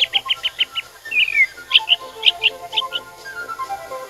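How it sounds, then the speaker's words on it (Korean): In a children's storybook setting, a black bird chirps in a quick series of bright, clear whistled tweets, with a short descending trill in between, close and loud over a quiet background. "라피랑 차오가 랄랄라 까만 새도 날아와 짹짹짹."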